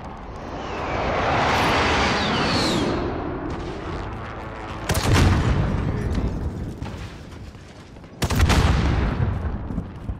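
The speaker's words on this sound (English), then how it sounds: "I'm gonna call in another airstrike." Call of Duty airstrike: a jet roars overhead, then two heavy explosions boom and rumble at intervals, loud and sustained amid battlefield noise.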